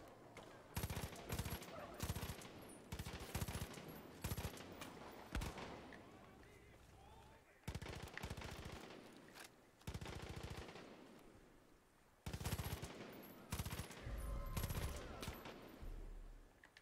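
Gunfire in the Far Cry 5 video game: repeated bursts of automatic weapon fire, loud and close, broken by short lulls, with faint speech now and then.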